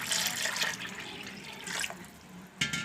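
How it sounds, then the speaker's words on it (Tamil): Water being poured into a ragi porridge mix with curd in a kitchen, a close, steady splashing and trickling pour that swells and fades, ending with a brief louder splash. "இதுலேயே நம்ம தண்ணி ஊற்றிக்கலாம்."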